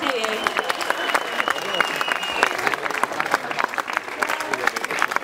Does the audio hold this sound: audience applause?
yes